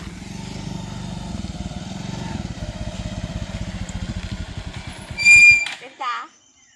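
A motorcycle being ridden, its engine chugging in a quick, even rhythm at low revs, moderately close, before it drops away and a couple of short sharp noises follow.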